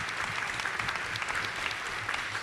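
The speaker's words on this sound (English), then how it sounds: "We need to give a really big hand to this panel up here tonight" Sustained audience applause for a panel of mayoral and judicial candidates at an evening political event, steady dense clapping throughout at moderate distance.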